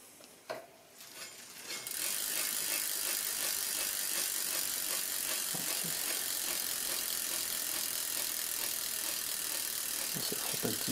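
After a brief handling knock, a bicycle wheel spins with a steady, close freehub ratchet buzz, and a newly fitted Shimano BL-M4100 hydraulic disc brake rubs slightly. The wheel keeps running for about nine seconds.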